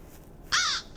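Magpies caw in the horror video game Tempus Triad: two harsh, loud, close calls in quick succession over a faint ambient hum.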